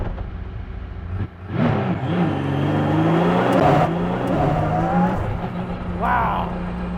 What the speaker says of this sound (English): First ride in a Ford GT Mark IV.